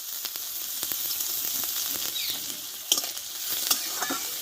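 Finely chopped onion fries in oil in a home kitchen pan with black cumin seeds; there is a soft steady sizzle with occasional spatula scrapes and taps, close and fairly quiet.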